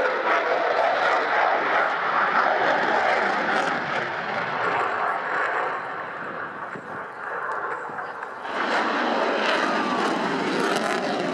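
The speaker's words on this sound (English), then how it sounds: "Eurofighter 2000 is a fighter aircraft of the latest generation" A Eurofighter Typhoon fighter jet flies at an air show, its loud engine roar holding steady before dipping briefly and then surging back up.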